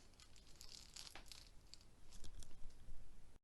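A hazelnut Nescafe sachet being torn open, a run of crisp crinkling and tearing of foil packaging, close and fairly quiet, growing louder toward the end.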